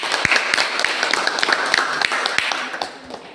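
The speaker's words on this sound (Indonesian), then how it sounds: "Tepuk tangan." A group of teachers in a training class claps for a few seconds after a presentation, a scattered mix of sharp hand claps that thins out toward the end, with no talking.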